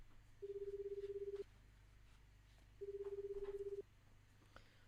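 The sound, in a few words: phone ringing in 428: Shibuya Scramble video game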